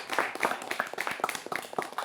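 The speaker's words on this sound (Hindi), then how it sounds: "ताली बजा सकते हैं," A studio audience at a Hindi television debate on urban traffic problems claps in a lively, uneven burst of many hands, close and continuous for the whole moment.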